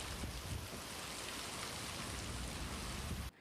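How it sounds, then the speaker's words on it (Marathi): Heavy pre-monsoon rain with thunder and lightning pours in a dense, continuous roar, loud and close, then cuts off abruptly. "विजांच्या कडकडाटासह जोरदार पावसाला सुरुवात झाली आहे"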